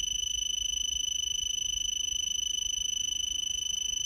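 A radiation dosimeter beeps rapidly in a continuous high-pitched pulse train, unbroken throughout, with a faint hum underneath and no voices.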